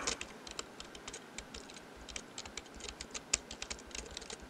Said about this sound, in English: Sounds like you're just slamming random keys